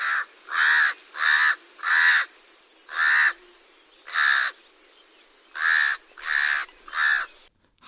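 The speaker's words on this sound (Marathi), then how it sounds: "आता आपण काळव्याचा आवाज ऐकू तो पण तुम्ही नेहमीच ऐकतात" A house crow caws in a steady series of about nine harsh, evenly spaced calls, fairly close and clear against a quiet background.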